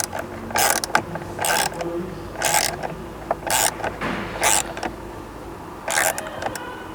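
A bolt on an adjustable magnetic paddle shifter is turned with a tool and extension, giving repeated ratcheting clicks in steady short bursts, close and moderately loud, with no voices.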